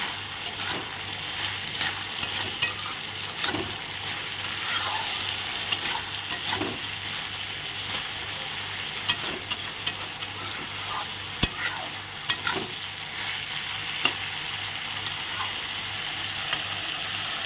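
Dhekia greens and soybean stir-fry in a hot pan with a steady, close sizzle, broken by scattered sharp clicks and scrapes of a spatula turning the mixture.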